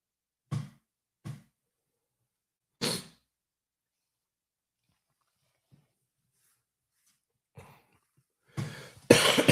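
A sick person coughs several times in short, separated bursts close by, with quiet pauses between and a harsher cluster of coughing at the end.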